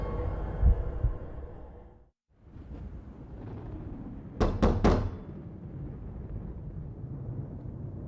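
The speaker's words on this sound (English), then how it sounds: "My fist pounds on the door, no reply." Several heavy fist blows pound on a door in the horror game Death Mark, a tight cluster of three or four thuds rising over a murky ambient music bed, with no voices.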